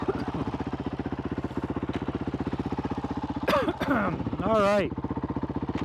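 A Honda CRF450RL motorcycle engine idles close by with a fast, even pulsing thump, and people talk briefly over it.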